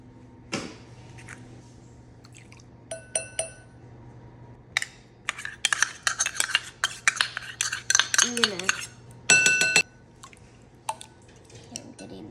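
Egg yolk is whisked and broken up in a bowl for a carrot cake batter, giving scattered clinks and scrapes of a utensil against the bowl, with faint background hum.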